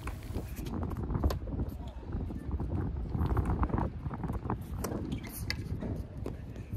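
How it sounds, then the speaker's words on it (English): Gusty wind buffets a camera beside an outdoor tennis court during a USTA tournament match, producing steady low rumbling wind noise with irregular thumps and faint court sounds throughout. "the wind is tossing my camera around like a rag doll"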